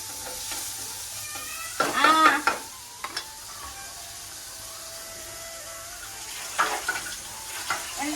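Fish laid in masala fries in a pan with a soft, continuous sizzle, broken by two louder bursts of spattering or stirring, no talking.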